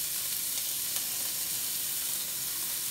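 Rice and frozen vegetables sizzle steadily in a preheated pan while bacon fried rice cooks, a dense, even crackle that holds close and constant throughout with no talking.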